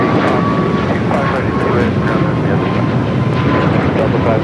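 An airplane rolls down runway 25 right at Los Angeles International Airport, its engine roar loud, steady and broadband, with a thin whine, while a voice talks over it.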